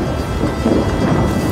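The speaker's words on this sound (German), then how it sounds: "Und die Bergbauernfamilie Wirth will das Heu noch vor dem Gewitterregen ins Trockene bringen" Thunder rolls in ahead of a midsummer thunderstorm over mountain hay meadows in the Bregenzerwald, Austria, a loud continuous low rumble filling the whole moment, close and broad, with no voices.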